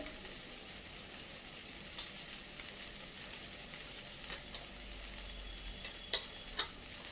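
Idli pieces sautéing with spices over a low flame, a soft steady sizzle with light stirring scrapes and a few sharp clinks of a spoon against the pan, no voices.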